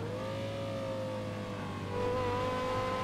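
Engine of a Ford car driven in the video game GTA 5 at a car dealership, a steady droning hum with a slowly shifting whine that rises slightly near the end, continuous and fairly loud with no talking.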